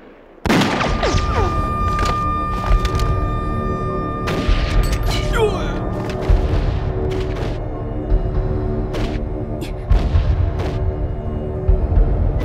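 Dense, continuous battle noise in a war drama set against Japanese soldiers, with repeated gunshots and booming blasts layered over a loud rumbling background, close and intense throughout.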